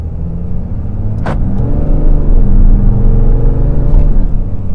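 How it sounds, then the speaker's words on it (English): A 2019 Ram 2500 Laramie HD pickup with a Cummins diesel engine accelerating, a loud, close, deep engine rumble that builds steadily, with a brief sharp click near the start. "So this truck definitely has a lot of performance when it comes down to get up and go."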